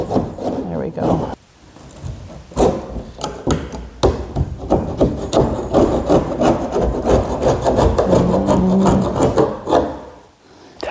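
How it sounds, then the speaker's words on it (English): Steady, gritty rubbing of sanding on a vintage camper van's fiberglass top goes on in close, rhythmic strokes, briefly pausing twice, with a voice speaking underneath. "We've got a little bit more sanding left to go"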